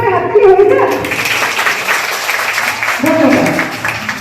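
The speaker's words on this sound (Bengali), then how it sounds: "তাহলে আরেকটা যুগের ছোট্ট করে হাততালি হয়ে যাক।" Short burst of audience applause at a Saraswati Puja programme, a steady broadband clatter of clapping hands filling the clip, with a voice talking over it at the start and again near the end.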